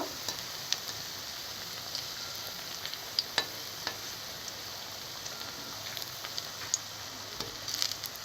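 Carrot chops fry in hot oil with a steady, even sizzle and occasional light taps and clicks as the pieces are turned over one at a time.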